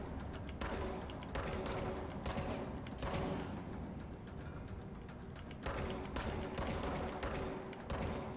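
Sustained gunfire from the magic gun in the video game Control, a dense, loud run of rapid shots in several long bursts separated by brief gaps, with no speech.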